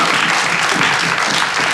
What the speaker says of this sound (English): aplodit, hyvät naiset ja herrat täällä.